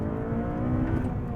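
A Honda Civic Type R with a rebuilt high-revving engine screams at sustained high rpm, a loud, smooth mechanical wail with a slight rise partway through.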